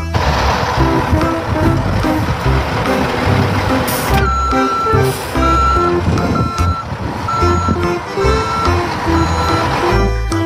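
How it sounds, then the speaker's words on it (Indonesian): Toy cement mixer truck sounding loud, steady electronic reversing beeps in a regular rhythm over a busy, buzzing mechanical backdrop, close and continuous with no talking. "Yang ini ada mobil truk molen."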